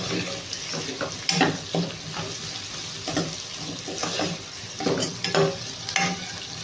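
Onions frying in oil in a pan with eggs nearby, a steady sizzle broken by repeated scraping stirs of a spatula at close range, with no talking.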